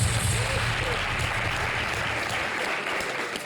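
Steady, dense applause from a crowd fills the whole stretch, loud and continuous with no pauses.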